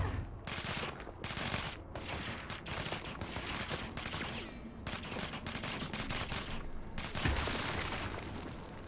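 Gunfire in the video game Control, rapid bursts of shots fired in quick succession with booming impacts, loud and close, continuing in waves.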